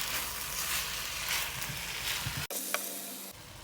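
Garlic and ginger paste sizzling and frying in a hot pan for a home-made crab curry, a steady close crackle that cuts off abruptly near the end.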